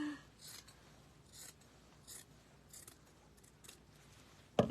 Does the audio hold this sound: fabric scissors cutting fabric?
yes